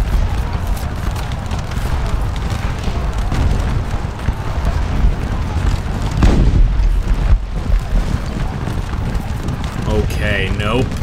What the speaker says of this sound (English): Really cinematic with those explosions going on overhead.